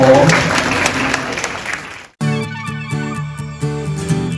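Wedding guests burst into dense, steady applause for the couple at the ceremony for about two seconds before it cuts off abruptly and gives way to music.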